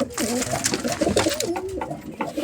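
Pigeons kept at a home loft coo nearby in a run of soft, wavering calls, close and fairly loud.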